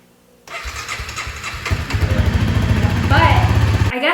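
A Honda dirt bike engine cranks and catches, then settles into a loud, close, rough idle with a steady mid-low rumble and a few revs toward the end.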